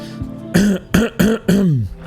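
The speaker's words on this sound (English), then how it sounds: "oh, a little bit of a cough." A video game character in Return to Monkey Island gives four short, rough coughs or throat-clearing bursts in quick succession, close and fairly loud, each with a falling tone.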